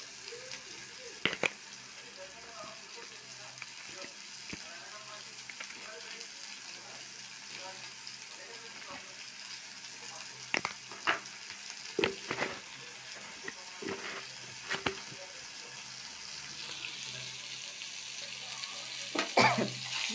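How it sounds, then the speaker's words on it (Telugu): Mango and ridge gourd chutney with salt fries quietly in a pan for twenty seconds, a soft continuous sizzle punctuated by scattered clinks and scrapes of a spoon stirring, growing busier toward the end. "బాగా వేయించుకోవాలి."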